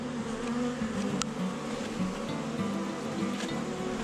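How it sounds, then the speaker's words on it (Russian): Honey bees on their first spring cleansing flight at an apiary buzz continuously all around, a dense, steady droning hum from many insects flying close by. "А мы наблюдали, как наши пчелы облетываются."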